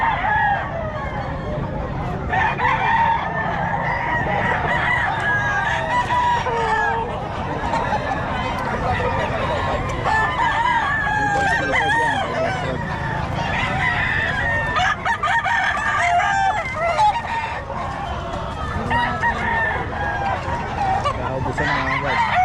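Roosters crow over and over amid steady clucking of many chickens at a busy Bocaue market, loud and close, with crowd murmur and voices in the background.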